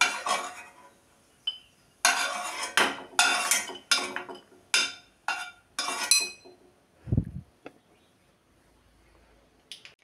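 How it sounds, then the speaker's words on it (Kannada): Fried cashews scooped out of a pan onto a plate: a run of close metallic scrapes and clinks of spoon on metal in quick bursts, then a soft thud and a few faint ticks in near silence. "ಇವಾಗ ಗೋಡಂಬಿ ಫ್ರೈ ಆಗಿದೆ ಇದನ್ನು ನಾನು ಒಂದು ಪ್ಲೇಟಲ್ಲಿ ತೆಗೆದಿಟ್ಕೊಳ್ತೀನಿ"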